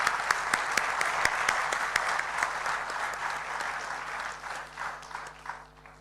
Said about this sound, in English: let's give a round of applause to our presenters tonight.